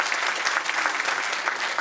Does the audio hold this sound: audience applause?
yes